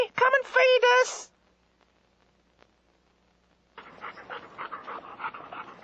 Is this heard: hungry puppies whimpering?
yes